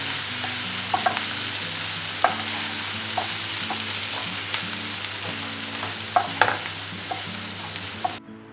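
Prawns and coriander being stirred in a hot pan for a spicy Kerala-style prawn roast, with a steady sizzle and repeated scraping clicks of the spoon throughout, close and alone with no talking.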